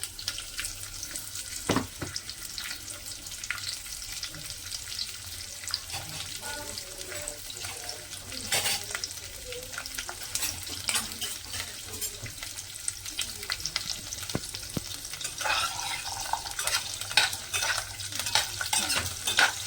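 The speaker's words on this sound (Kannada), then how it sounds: "ನುಗ್ಗೆಕಾಯಿ ಹಾಕ್ತಿದ್ದಾರೆ ಫ್ರೈ ಮಾಡ್ಕೊಳ್ಳೋಕ್ಕೆ" Drumstick pieces fry in hot oil after popped mustard seeds, a soft continuous sizzle with occasional sharp spatters and scraping stirs, close by and without talk.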